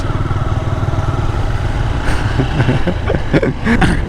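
A Honda CB Hornet 160R with CBS brakes is ridden, its engine giving a continuous loud, close drone with a few brief revving surges toward the end.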